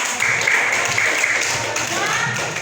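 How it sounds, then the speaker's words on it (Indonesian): A group of participants in a teacher coaching session claps together for a few seconds, a moderately loud, busy patter of hands in a room with faint voices mixed in. "beri tepuk tangan untuk kita semua dulu"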